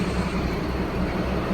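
A low, steady rumble from the Neral–Matheran toy train engine idling nearby at the station, a continuous drone with a faint rhythmic throb and no talk.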